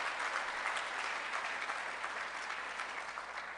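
Audience applause for first-generation college-bound students, a steady wash of many hands clapping throughout, even and sustained at a moderate distance, fading slightly at the end.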